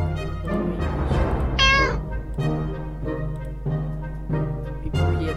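A cat meows repeatedly in the survival video game 60 Seconds, several drawn-out meows in a row, including one higher, wavering cry, close and clear with no talk over them.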